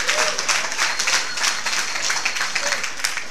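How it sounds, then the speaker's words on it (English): Loud, continuous applause and cheering from a crowd at a sports team event in a Hard Rock Cafe, dense and unbroken throughout. "let's give a round of applause for our owners"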